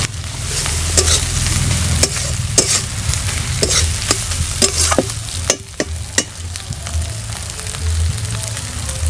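Green chillies hit hot oil in a village kitchen pan, giving a loud, steady sizzle and crackle with sharp spatters and the scrape of stirring at close range throughout, with no voices.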